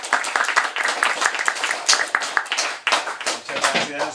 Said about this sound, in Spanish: Démosle un aplauso de bienvenida.